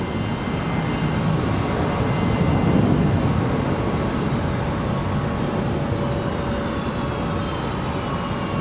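An aircraft taxis at Brisbane Airport, its engines giving off a loud, steady roar with a faint whine, holding constant throughout with no voices over it.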